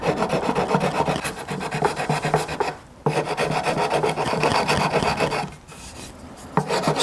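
Sandpaper of 150 grit wrapped on a scrap block rasps back and forth over the frets of a short-scale bass guitar, steady close scrubbing strokes with two brief pauses and no talk.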